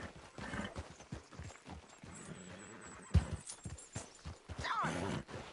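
Horse in the video game Red Dead Redemption 2 acting up, with irregular hoof clip-clops and a sharp whinny near the end, fairly quiet and close.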